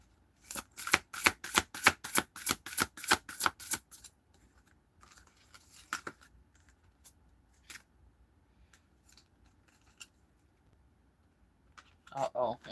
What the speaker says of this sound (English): I shuffled it the wrong way.